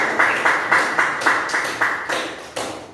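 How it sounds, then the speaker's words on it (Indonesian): A classroom group claps hands in a steady rhythmic pattern of about ten sharp, even claps, close and fairly loud, with no talking over them. "tepuk tangan dulu."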